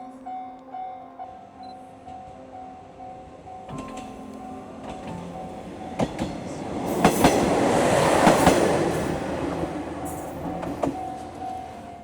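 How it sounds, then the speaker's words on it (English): A train approaches and rumbles past close by in the mountains of Kyoto and Shiga, Japan, its roar and clatter swelling to a loud peak before easing off. "So the train is coming."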